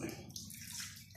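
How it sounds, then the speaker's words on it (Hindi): Tap water runs steadily during a Shia ablution (wudu) as the right arm is washed, a continuous close splashing stream with no talk over it. "आप देख रहे हैं कि मैं पानी कम से कम इस्तेमाल कर रहा हूँ"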